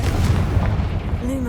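A Confringo spell detonates in Hogwarts Legacy, heavy booming blasts rolling through the whole clip with a bright whistling tone rising near the end.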